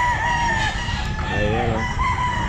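Young roosters at a pet market crow and cluck close by, a couple of strained crows overlapping over market background noise.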